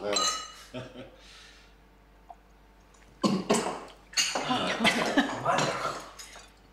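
Glasses clink in a drink toast at a family dinner table: one brief, light clink amid quiet room tone, followed by louder overlapping voices and table clatter.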